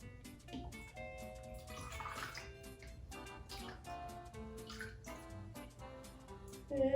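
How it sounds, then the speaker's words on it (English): Water poured into a beaker for a rain cloud science experiment, faint trickling and dripping splashes under a tonal background, ending with a louder splash. "pour 6 ounces of water into the beaker"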